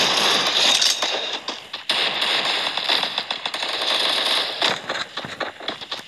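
M1887 shotgun fire rings out in a video game: loud, dense volleys of sharp blasts and crackling impacts follow one another rapidly in irregular bursts.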